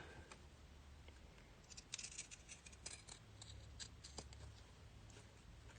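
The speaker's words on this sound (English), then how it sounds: "I'm actually going to get my pinking shears and cut around those curves as well." Pinking shears snip through fabric around the curves of a cupcake pincushion, giving a quiet run of short crisp cuts in uneven rhythm, close and alone.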